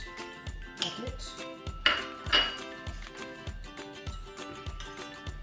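Knife and cutlery clinking and scraping on a plate while cutting steaming patrani paneer, several sharp clinks over a soft, rhythmic background beat.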